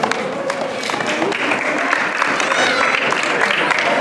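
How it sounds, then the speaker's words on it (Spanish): Parents applaud at a children's padel final prize ceremony in Buñuel, a steady wash of clapping from a crowd with voices chattering over it throughout. "Podéis aplaudir los padres"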